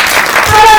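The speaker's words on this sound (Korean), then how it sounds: "큰 박수 부탁드리겠습니다." Brief burst of cinema audience applause at a special film screening Q&A, a loud, dense wash of clapping that stays steady through the moment.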